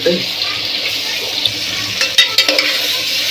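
Chicken curry with curry leaves frying and being stirred in a pan, a loud steady sizzle with a few scraping stirs near the end.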